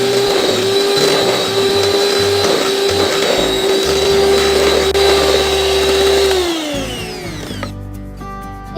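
Cupcake batter of sugars, vanilla, vegetable oil and eggs is beaten with a close, loud electric mixer. Its motor whines at a steady pitch, then winds down and stops near the end.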